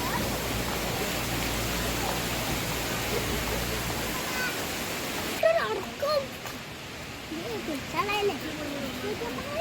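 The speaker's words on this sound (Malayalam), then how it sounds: "ഇതിൻ്റെ താഴെ ഭാഗത്തു കൂടെയാണ് വെള്ളച്ചാട്ടങ്ങളിൽ നിന്ന് വരുന്ന വെള്ളം താഴെ ഭാഗത്തേക്ക് പോകുന്നത്." Water from Thusharagiri waterfall rushing beneath a suspension bridge, a dense steady roar that drops away halfway through, leaving a softer wash of flowing water under a person talking.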